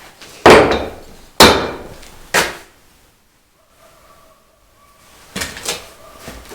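Three loud, sharp hammer blows ring out on metal while forging a garden hoe, followed by a quiet pause with a faint tone, then a few more clanking strikes.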